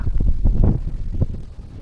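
Cold wind blowing at a hilltop temple buffets the microphone in low, rumbling gusts that swell and fade over a couple of seconds, close and fairly loud, with no talk.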